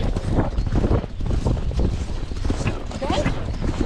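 Hooves of a young horse cantering in open space, a steady clip-clop rhythm close to a chest-mounted camera, mixed with wind buffeting and the rider's voice over it.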